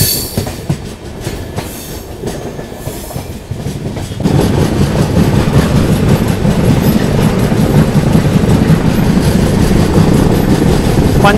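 Mangalore–Mumbai CSMT SF Express rolling along, a steady loud rumble with rhythmic wheel clatter that swells sharply partway through and then holds at full strength, with no voices.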